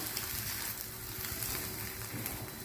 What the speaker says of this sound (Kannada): ಸ್ವಲ್ಪ ತೆಮಿಗೆ ಎಣ್ಣೆ ಹಾಕ್ಕೊಂಡು ತಾಲಿಪಟ್ಟಿ ಹಾಕ್ಕೋತೀನಿ ರೀ.